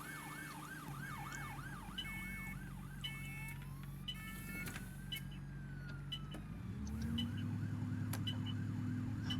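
An ambulance siren in the bus-driving game OMSI 2 wails in a repeating up-and-down pattern, then briefly shifts tone, over a steady low bus engine hum that swells near the end.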